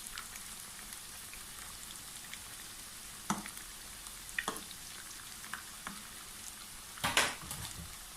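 Rice and minced meat croquettes frying in hot oil, a steady faint sizzle with scattered pops and crackles, a few louder spits standing out near the end.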